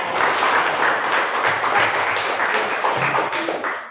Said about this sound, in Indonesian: Oke, kita aplaus dulu kelompok.